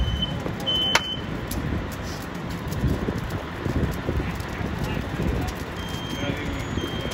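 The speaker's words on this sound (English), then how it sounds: "Look how nicely that fire's grown." A room fire in a live burn demonstration grows toward flashover with a loud, steady, close roar and dense crackling that continues unbroken throughout.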